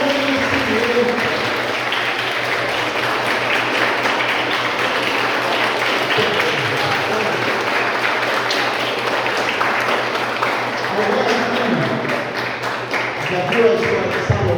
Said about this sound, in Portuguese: Então eu queria pedir para vocês mesmos uma salva de palmas para vocês que estão aqui no seu conhecimento.